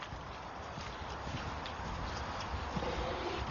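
A horse's hooves clip-clop at a steady walking pace in a field, moderately close, over a constant outdoor background hiss.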